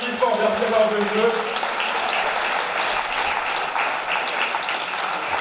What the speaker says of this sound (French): On l'applaudit très fort, Patrice, s'il vous plaît, un tonnerre d'applaudissements.